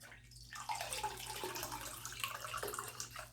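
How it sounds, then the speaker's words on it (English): Water tipped out of a leaking tabletop fountain, running and splashing in an uneven stream for a few seconds, close and fairly quiet, with no talking. "So we're gonna dump the water out"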